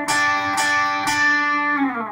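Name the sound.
electric guitar playing part of a solo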